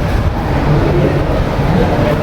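Steady rumbling noise inside a railway station in Porbandar, low and continuous, with a train-like drone filling the space and no distinct voices.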